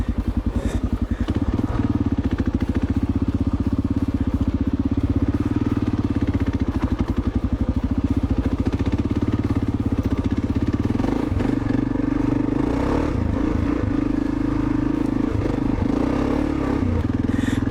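A 2010 Kawasaki KLR650 with upgraded stiffer suspension and 25 PSI tires rides a rutted trail, its engine droning steadily and loudly throughout with rattling and scraping clatter from the bumpy ground.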